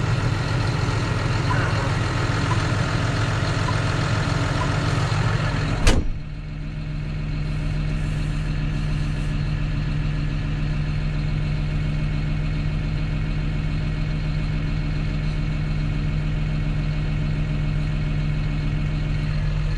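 A John Deere 6210R tractor's diesel engine runs steadily at a low, even drone, with a sharp clunk near the start after which the pitch drops slightly and the engine keeps idling.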